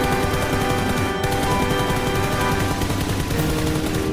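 Dense, continuous automatic gunfire from men shooting at zombies in a Los Santos video game, a steady loud barrage of rapid shots over a busy game soundscape for the whole stretch.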